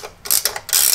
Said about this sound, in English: Now we're just going to tighten these back up.